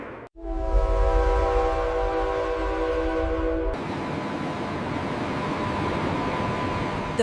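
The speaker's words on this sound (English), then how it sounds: "The first train runs" A train running through the Channel Tunnel, a loud sustained roar with a droning tonal hum that abruptly gives way to broader rushing noise partway through, continuous and close.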